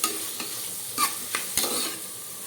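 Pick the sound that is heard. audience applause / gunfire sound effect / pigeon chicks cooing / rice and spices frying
rice and spices frying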